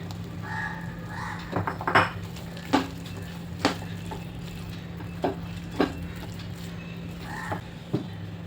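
Green peas are stirred and sautéed in a pan for malai methi matar, with a low steady sizzle and sharp scraping and clinking taps of the utensil against the pan at irregular intervals.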